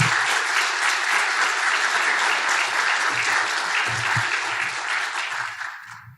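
Audience applause at a life sciences expo's opening remarks as a speaker is welcomed, loud sustained clapping from a large crowd that gradually fades at the end.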